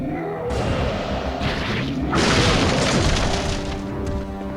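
Heavy booming impacts and crashing rumbles from Nemesis approaching in Resident Evil 3, loud and continuous over about four seconds with a sharp swell partway through and no voices.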